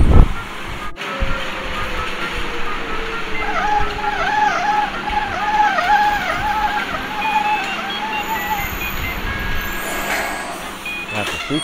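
A new airport people-mover train running on its track, a steady rumble with warbling, whistling tones rising and falling across the middle, plus a loud thump at the start and a brief voice.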